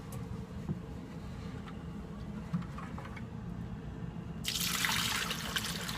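Water runs into an RV black water tank, starting as a faint trickle under a low background rumble and then turning into a loud, steady rush near the end.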